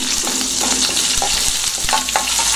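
Curry leaves and green chilies fry with a constant close sizzle in a pan that already holds chana dal and urad dal, with a few soft stirring scrapes and no talking.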